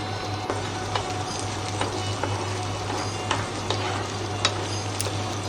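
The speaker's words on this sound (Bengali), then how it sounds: "ভালো করে ভাজা ভাজা করে নিব।" Chopped onions fry in hot oil for a beef brain bhuna, making a dense, even sizzle close by with periodic stirring scrapes and a low steady hum underneath.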